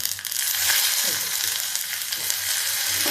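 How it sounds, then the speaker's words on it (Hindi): Mustard seeds and two chillies sizzle and crackle loudly in hot oil with asafoetida for a tempering, with sharp pops scattered over a constant frying hiss. "अब देखिए राई चटकने लगी, इसी समय हम डालेंगे हींग, और ये डालते हैं 2 मिर्ची।"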